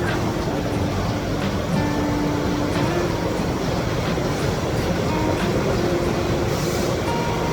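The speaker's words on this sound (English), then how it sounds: "Now we are doing the printing process. This is a circular screen print." A circular screen printing machine runs in a Shaoxing textile printing factory while printing crepe fabric, giving a dense, continuous mechanical roar and rumble with faint tonal whines, steady and close.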